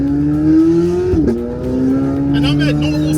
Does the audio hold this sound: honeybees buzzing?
no